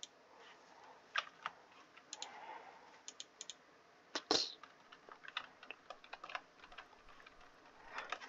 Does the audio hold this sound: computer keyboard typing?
yes